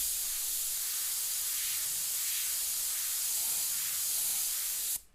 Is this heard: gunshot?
no